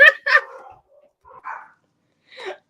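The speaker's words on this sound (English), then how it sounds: "All of them just decided they wanted to bark at one time." Several dogs bark in short separate bursts, two quick barks up front and then single barks spaced apart, fairly close, with silence between them and no talking.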